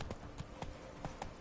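Hoofbeats of Roach, a horse in The Witcher 3: Blood and Wine, clop in an uneven galloping rhythm, fairly close and moderately loud with no talk over them.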